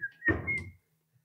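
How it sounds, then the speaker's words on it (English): Someone whistles a short, high, steady note while a TV is being set up indoors, followed by a brief burst of low handling thumps and rustle. "Whistle while we work."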